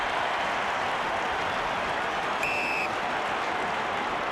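A big football crowd roars continuously at a 2004 AFL preliminary final between Port Adelaide and St Kilda, a dense loud wash of cheering and applause with a brief whistle tone cutting through midway.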